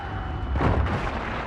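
Flashbang going off in Resident Evil 4 Remake: a single muffled, booming burst swells up over a steady background hum and fades back into it within a second.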